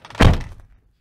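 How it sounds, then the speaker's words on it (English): The door of a 2015 VW Amarok 2.0 BiTDi Highline pickup shutting with one solid, deep thud that quickly fades, close and loud with no talking. "it does close with a very Germanic thud"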